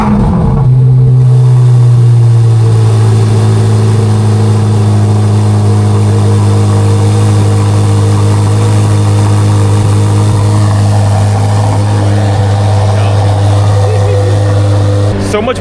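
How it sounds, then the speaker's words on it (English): A Corvette C8 Z06 flat-plane crank V8 runs loud and close, holding a strong, steady low drone with a slight swell early on. A voice talks over it. "so much more like just rawness and just violence from the Z06 motor. The flat plane crank V8"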